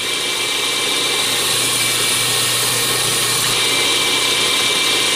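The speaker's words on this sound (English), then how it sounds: "I use one of these crepe rubber belt cleaners, and I do it each time I put on a different grit" A crepe rubber belt cleaner is held against a running sanding belt, producing a continuous loud whirring motor hum with a bright, hissing abrasive rush that holds steady throughout.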